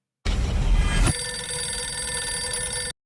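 A telephone in the Silent Hill f game trailer rings with a loud, rattling bell trill, shifting partway through into a sustained metallic ring before stopping abruptly, with no talk over it.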